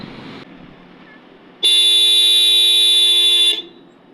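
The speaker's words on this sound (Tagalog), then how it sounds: "Tingin mo be, sa harapan, busina mo." A Hella classic 12V horn on a tricycle blares in one loud, steady blast of nearly two seconds, rising abruptly out of quiet outdoor background noise and cutting off cleanly.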